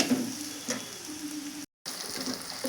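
An egg fries in a pan for street-style egg noodles, giving a steady close sizzle with light crackle that cuts out for a moment near the middle and then resumes.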